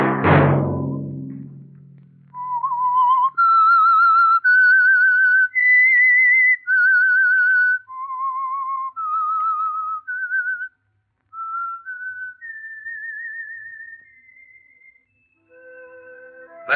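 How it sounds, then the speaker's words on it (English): A lone human whistler performs the slow, eerie theme melody of the Whistler radio program, clear sustained notes gliding up and down with a slight wavering vibrato, preceded by a short low thump. "Let that whistle be your signal for the Signal Oil program, The Whistler"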